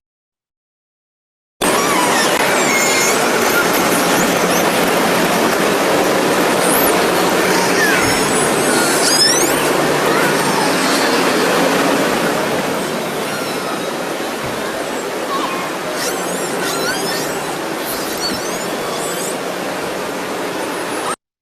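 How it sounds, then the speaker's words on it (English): A barge in British Columbia is recorded underwater as a loud, steady, broadband rumble and hiss. Several faint, short killer whale calls rise above it partway through. "This is from a barge I recorded in British Columbia and some killer whales."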